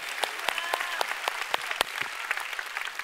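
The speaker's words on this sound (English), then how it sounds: "Come on, church, let's give the Lord a big clap." Worshippers in a Pentecostal church clap for several seconds, a dense run of crisp, uneven hand claps near and steady in loudness, with faint crowd murmur beneath.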